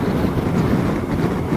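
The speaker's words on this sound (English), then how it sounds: "the wind's blowing" Wind roars steadily in a cold mountain setting with fresh snow nearby, a loud, continuous broadband rush buffeting the microphone, close and unbroken throughout.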